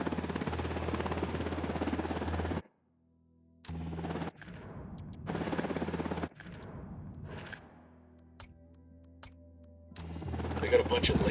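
A helicopter in the video game Ghost Recon Wildlands gives a low, steady rotor rumble beneath bursts of loud gunfire, with people talking over it.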